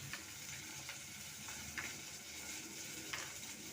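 Oil sizzles steadily in a wok, heated to fry fish heads for a lentil and fish-head curry, a continuous hiss broken by a few soft crackles and spits.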